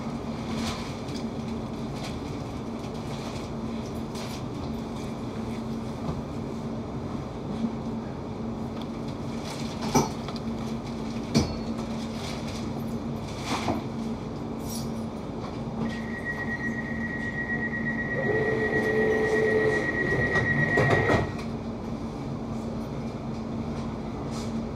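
A London Overground train on the Goblin Line rolls steadily along the track between Barking Riverside and Gospel Oak, with a constant interior rumble, sporadic rail clicks and a rising squeal and whine near the end.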